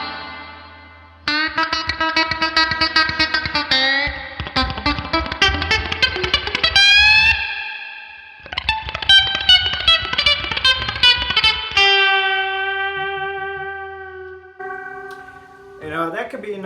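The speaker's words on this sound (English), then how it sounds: "one of the main things he's known for is the chicken picking" Distorted electric guitar playing a fast staccato chicken-picking blues lick with clucking, snapped notes, then ending on sustained bent notes, with reverb and echo effects throughout.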